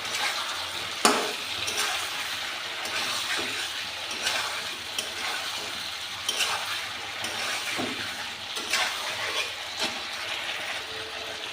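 Chicken kosha sizzles and is stir-fried in a pan as water is added bit by bit, with steady frying hiss and repeated scraping stir strokes. The sound stays close throughout, with no talking.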